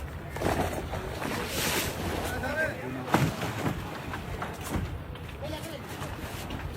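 A boat moves across floodwater near Dibrugarh, its rumble and splashing mixed with gusty wind noise on the microphone while people talk loudly over it.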